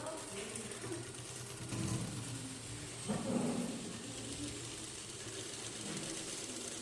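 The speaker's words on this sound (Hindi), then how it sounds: "कुछ बच्चे इधर सिलाई कर रहे हैं।" Sewing machines hum and clatter faintly in a busy tailoring class at a skill development centre, a low steady mechanical drone with a couple of brief louder bumps under a noisy room background.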